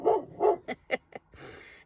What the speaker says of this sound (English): he's just going to bark from the windows